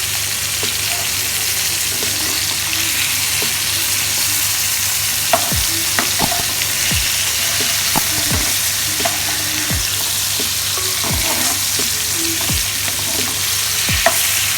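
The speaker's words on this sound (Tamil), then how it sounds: "இப்போ நான் மீன் திருப்பி போட போகிறேன். ரோஸ்ட் ஆகிருக்குன்னு நினைக்கிறேன்." Mackerel fish frying in a South Indian home kitchen pan, a steady close sizzle with several sharp scraping clicks of a spatula as the pieces are flipped, no voices.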